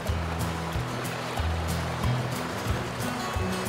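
The Smith River in central Montana flows with a continuous wash of moving water and surf-like rushing, steady and fairly close, with low tonal hum underneath and no speech.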